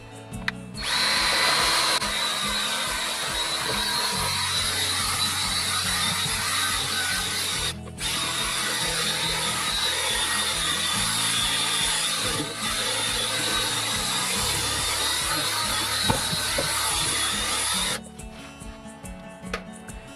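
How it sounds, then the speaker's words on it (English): A Buff King brush power-buffs carpet to clear salt stains, a steady loud motorized whir and scrubbing drone that runs for about sixteen seconds with a brief dip midway, then cuts off to quiet room sound. "buff it again and just vacuum it"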